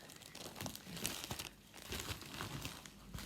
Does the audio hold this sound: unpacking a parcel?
yes